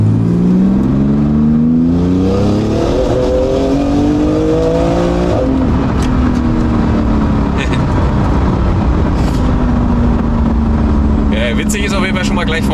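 A Porsche GT2 RS rated at 850 hp accelerates hard, the engine note climbing through rising revs with a shift, then settling into a loud sustained drone with road and wind roar, heard from inside the car.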